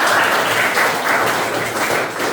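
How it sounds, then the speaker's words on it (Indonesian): A class of students applauds together after their presentations in a school lesson, a steady, dense wash of clapping held at even loudness throughout with no voices over it. "tepuk tangan dulu buat kalian"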